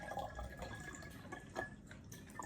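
Homemade kombucha being poured into a container, a soft continuous liquid trickle with a few drips, close and fairly faint, with no talking.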